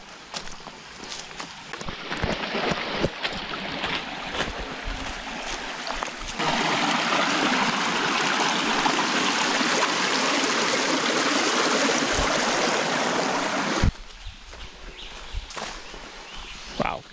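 Water from a stream in the countryside flows steadily as a broad rushing hiss, louder through the middle, with a few footsteps and handling knocks at the start and end.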